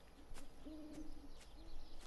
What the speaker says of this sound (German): Ja, die Eule macht sich bemerkbar.